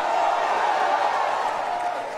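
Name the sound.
congregation shouting to the King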